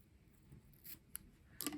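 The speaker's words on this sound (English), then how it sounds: "When I want to end it, you can just cut the yarn" Scissors snip through crochet yarn in a couple of quiet, brief cuts close by, with a soft rustle in between.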